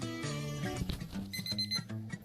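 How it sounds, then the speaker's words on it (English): Timer alarm on a Zeny twin-tub portable washing machine, going off as a steady run of bright electronic beeps that plays alone without any talk over it. "Okay, so the timer just went off."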